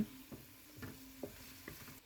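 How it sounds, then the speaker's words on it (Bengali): Onions frying gently in oil in a pan, cooked only until soft rather than browned, give a quiet, steady sizzle punctuated by soft, regular scrapes of stirring. "এখানে পেঁয়াজটা ব্রাউন কালার করে নেওয়া যাবে না এদিকে খেয়াল রাখবেন পেঁয়াজটা যেন পুড়ে না যায়"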